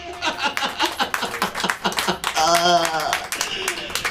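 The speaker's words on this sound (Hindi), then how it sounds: "आहा, ताली हो जाइए" Church congregation at a sermon claps in short, distinct bursts at a fairly quick rhythm, with speech and a sustained voice overlapping partway through.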